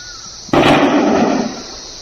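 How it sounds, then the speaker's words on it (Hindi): A single sudden loud explosion on a mountain top in Jammu and Kashmir during an encounter bursts out, then rumbles and fades over a second, heard from a distance. "पहाड़ की चोटी पर एक धमाका हुआ"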